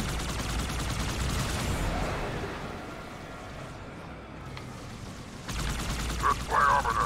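Gunfire in the video game Halo 2 crackles as a dense fusillade of rapid automatic shots, loud and continuous through most of the stretch, easing off midway before bursts pick up again near the end.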